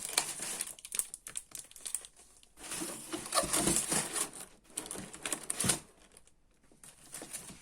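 Packaging from an Amazon haul being unwrapped on a desk, crinkly plastic and paper rustling and tearing in bursts with short quiet gaps, close and moderately loud, no talking.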